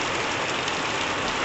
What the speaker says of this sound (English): Now it's heavily raining.